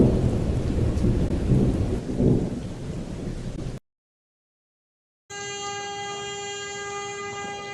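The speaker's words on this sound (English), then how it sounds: "A mighty storm is on its way, slow but certain" Deep rumbling thunder rolls under steady rain for several seconds, then cuts to silence before a flat, tonal hum takes over.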